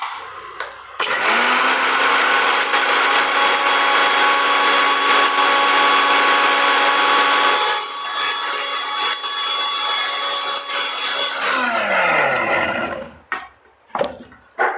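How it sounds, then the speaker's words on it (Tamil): A mixer grinder grinding masala paste with a little water whirs loudly and steadily for about eleven seconds, its motor pitch shifting midway, then winds down and stops with a few clatters. "மிக்ஸி ஜாரில் கொஞ்சமாக தண்ணி ஊற்றி ஃபஸ்ட்டு குறன்னு அரைச்சிக்கலாம்."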